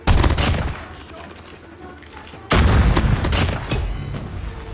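QQ9 Dual Kinetics submachine gun in a shooter video game, loud rapid bursts of automatic fire in two clusters separated by a brief pause, dense and booming.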